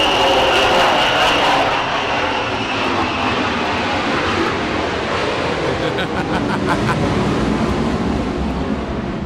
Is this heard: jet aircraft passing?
yes